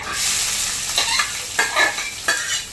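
Ingredients fry in a kadai tempered with mustard seeds and dried red chillies for a banana-stem chhechki, with a constant hiss broken by three or four scraping stirs, close and clear.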